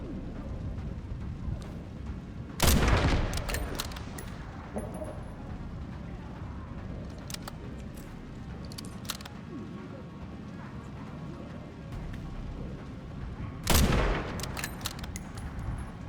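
Gunfire in a Resident Evil video game: two loud isolated shots several seconds apart over a constant game ambience with faint clicks and mechanical noises.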